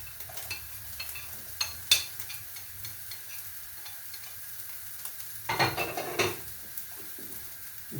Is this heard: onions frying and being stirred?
yes